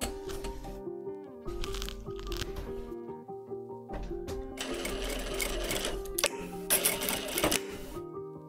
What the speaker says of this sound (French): on est en train de coudre un manteau Burda aujourd'hui